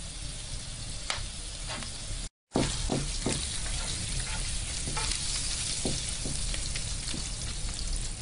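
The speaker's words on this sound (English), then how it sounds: "Okay, our bacon is frying up nicely now." Four slices of bacon sizzle steadily in a hot skillet, a constant crackling hiss with scattered pops, briefly cutting out for a moment before resuming.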